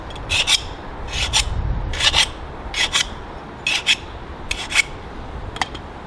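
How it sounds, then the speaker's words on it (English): A hand file rasps the inside of a tube for a homemade turkey call, with about eight short, evenly spaced scraping strokes, close and crisp, and no talking. "you just keep on filing this down until you get it where it won't cut you"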